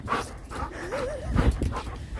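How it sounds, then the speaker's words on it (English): A dog barking and whimpering in snow, several short, close barks mixed with a rising and falling whine, fairly quiet with faint background noise. "Hey, here's my crazy dog."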